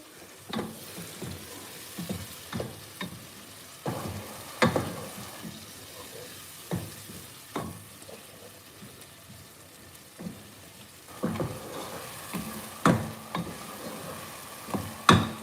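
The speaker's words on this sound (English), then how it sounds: "So right now I'll just stir the tomato." Tomato cooking in a pot is stirred with repeated clicking scrapes and soft taps over a low sizzle, close and unhurried throughout.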